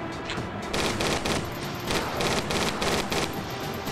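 A weapon in the video game Judge Dredd: Dredd Vs Death fires in short repeated bursts, a steady pattern of rattling shots over continuous in-game background noise.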